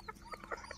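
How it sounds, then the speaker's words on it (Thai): Black chickens at a farm cluck in a quick series of short, faint, soft calls, heard alone against low background noise. "มามาชมไก่ดำที่ฟาร์มนะครับ"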